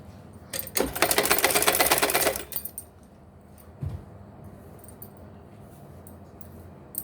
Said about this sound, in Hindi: इस तरीके से हम इसमें सिलाई लगाएंगे।